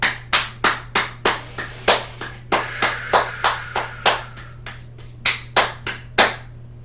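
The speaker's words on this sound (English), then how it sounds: "let's bring the hands together and clap" A small community group claps hands together in a slow, uneven rhythm during a guided movement session, about twenty distinct sharp claps with a brief pause near the end, close and clear over a low hum.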